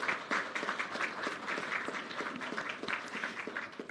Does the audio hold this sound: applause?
yes